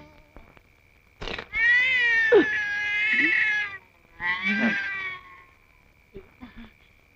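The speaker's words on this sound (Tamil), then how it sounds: "இது பூனை." Cat meowing in drawn-out, wailing calls, two long yowls close up, followed by faint short sounds in an otherwise quiet room.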